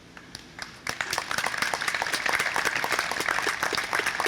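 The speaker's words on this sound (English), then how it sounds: "Let's give him another round of applause" A crowd's applause starts with a few scattered claps, then swells into steady, dense clapping that carries on throughout.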